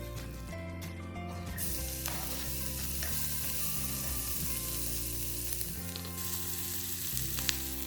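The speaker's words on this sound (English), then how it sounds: "Once the butter's in and sizzling, it's time for the onions." Onions frying in sizzling butter in a pan on a home stove, a steady bright hiss and crackle that carries on unbroken for the whole stretch, close and fairly quiet, with some stirring and no voices.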